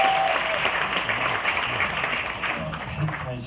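Warm audience applause for a soprano at an autumn evening civic commemoration event, a full, sustained wash of clapping from a large crowd that tapers slightly toward the end, with a voice faintly present beneath it.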